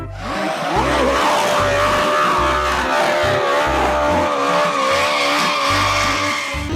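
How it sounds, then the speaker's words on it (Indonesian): A toy race car skidding with a loud, sustained tire squeal whose pitch wavers and slides. A heavy rhythmic low thumping runs underneath, and no one speaks. "Ada mobil balap."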